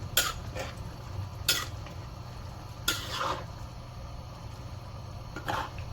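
A spoon scrapes and clinks against a cooking pot of sambal goreng pengantin a few times, spaced seconds apart, over a steady low kitchen hum.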